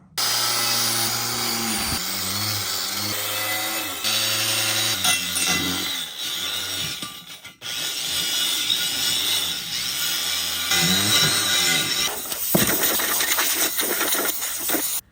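A wire wheel scuffs a steel car wheel rim from an old Mopar, a loud, steady grinding whine that pauses briefly a few times and changes pitch as the tool shifts across the metal.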